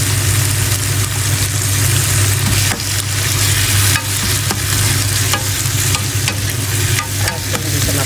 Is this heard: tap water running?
no